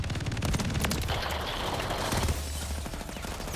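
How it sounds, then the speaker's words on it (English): Constant rapid gunfire in a Call of Duty MW3 multiplayer match, many players shooting at once in a dense, unbroken rattle of shots close up and at a distance. "they're all shooting each other"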